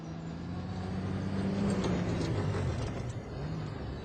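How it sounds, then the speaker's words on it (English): Modded road traffic on the Saxlingham map in Farming Simulator 25: a steady, fairly quiet drone of passing vehicles with a low engine hum that rises and falls, plus occasional mechanical whines, with no talk. "the map maker has changed the traffic. So the traffic has different sounds."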